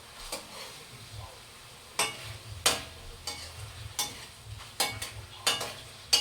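Chicken adobo stirred in a pan with a little oil, giving a series of sharp scraping clanks about every half second over a faint low sizzle, close and moderately loud.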